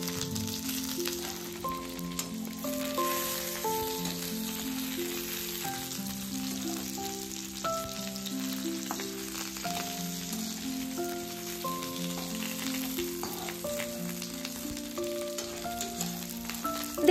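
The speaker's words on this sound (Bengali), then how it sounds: "দেখুন কলা পাতাগুলো কিন্তু বেশ ভাজা ভাজা হয়ে গেছে।" Bhetki fish paturi wrapped in banana leaves fries in oil in a kadai over a medium flame, a soft continuous sizzle and crackle, fairly faint, with background music playing throughout.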